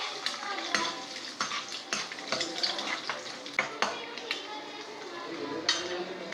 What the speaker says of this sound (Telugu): ఇది ఇలాగ మనం వేయించేసుకోవాలండి